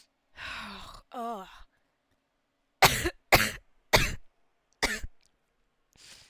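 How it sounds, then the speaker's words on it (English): A person coughs loudly and harshly in a run of four sharp bursts, with a lighter fifth at the end, after a couple of strained groaning breaths at the start. "I'm sorry if my coughs are so loud"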